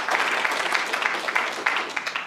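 An audience at a hospital research week presentation breaks into applause, a brisk crowd of hands clapping steadily with individual claps popping out, moderately loud and without talk.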